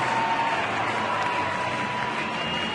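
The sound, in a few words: baseball crowd cheering at U.S. Cellular Field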